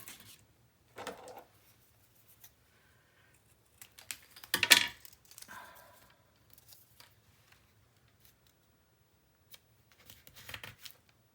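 Scissors cut paper strips for a Graphic 45 scrapbook mini album. Short, sparse snips and paper rustles come close by and quiet, with one sharper burst in the middle and long silent gaps between.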